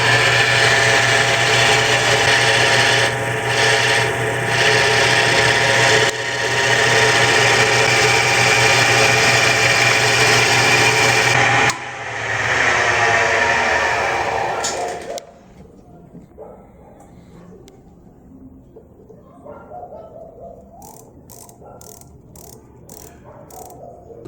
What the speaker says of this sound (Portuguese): Avançando bem pouquinho no torno para a gente conseguir chegar nessa medida precisa.